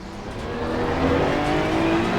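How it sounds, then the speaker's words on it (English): A Maserati GT2 race car in Assetto Corsa Competizione gives a loud, steady engine and exhaust drone that swells slightly as it holds high revs, with no voices over it. "it does have a distinctive engine and exhaust note, especially compared to the Porsche"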